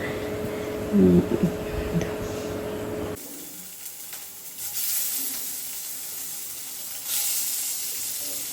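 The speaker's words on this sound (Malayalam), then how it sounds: "നമ്മളൊരു ചട്ടി വെച്ചിട്ട് എണ്ണ വേറെ ഒന്നും ഒഴിക്കേണ്ട ആവശ്യമില്ല അത് അങ്ങനെ നമ്മൾ പോർക്കിട്ട് കൊടുക്കുക" Pork frying in its own rendered fat in a pan, a steady sizzling hiss that swells louder midway and again near the end, with a brief clatter early on.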